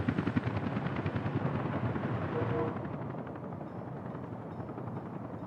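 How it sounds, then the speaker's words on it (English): A helicopter flies in Workers & Resources, its rapid rotor chop thudding steadily at a fair distance under a voice, loudest at first and then settling into a quieter beat. "Oh, the helicopter's on the way. The helicopter's in the air."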